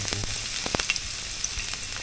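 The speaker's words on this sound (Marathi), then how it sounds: "तेल आपलं मस्त गरम झाले. गॅस थोडी कमी करू. आपण जो लसूण थोडा ठेवलेला तो टाकू." Garlic dropped into hot oil on a lowered gas flame, giving a steady, close sizzle with scattered crackles and a few soft knocks.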